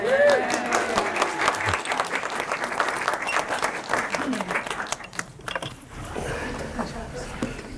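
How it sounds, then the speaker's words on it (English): A gathered audience at a fine arts gallery applauds, a sustained patter of many hands that thins and fades toward the end, with some voices mixed in. "you're going to get an applause from everybody"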